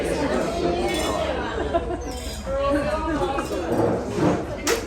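Glasses clink together in a lunchtime toast at a vegetarian restaurant in Los Boliches, a few light chimes rising over steady restaurant chatter and background voices.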